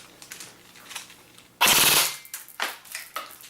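An airsoft AEG AK-style rifle firing gives a sharp burst of rapid mechanical cracks lasting about half a second, followed by fainter clicks and rattles, close and loud.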